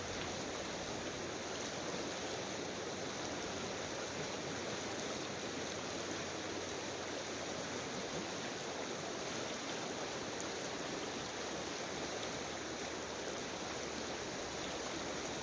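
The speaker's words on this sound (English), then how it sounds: "have some more Peaceful River video for a minute" A flowing river rushes steadily, a dense, even wash of water noise that fills the whole stretch at constant loudness, with no voices over it.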